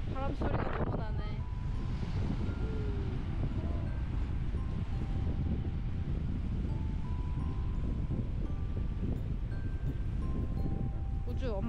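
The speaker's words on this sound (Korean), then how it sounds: "바람 소리가 너무 나네." Steady wind rushes and buffets the microphone at a Jeju seaside, a continuous broad roar throughout, with a few voices and small sounds underneath.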